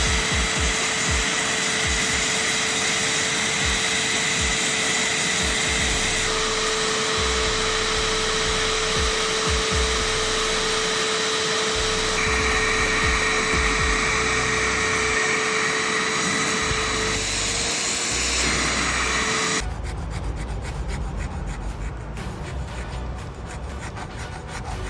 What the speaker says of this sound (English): ready or not, we're sanding